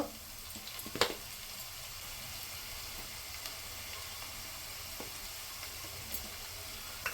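Fish curry paste, seasoned with turmeric, salt and chili, fries in a pan with a soft, steady sizzle, quiet and continuous, with a few faint clinks and stirring taps and no speech.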